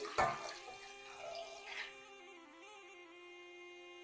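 Water pours into a cooking pot: an opening splash and rushing stream, then a rising resonant ringing tone as the pot fills, fairly faint and alone.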